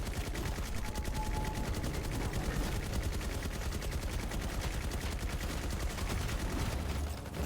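An SMG fires continuously in the FatalZone zombie game, a fast, dense stream of shots over busy game noise, steady and loud throughout with no talk.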